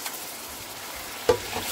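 Chicken fries with onion and tomato paste in a pot, a close, soft sizzle with a brief scrape of stirring partway through.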